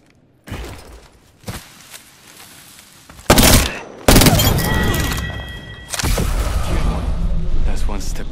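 Loud, close gunfire and explosive blasts in the Apex Legends video game arrive in irregular heavy bursts, separated by quieter gaps, with game voice lines and talk mixed in.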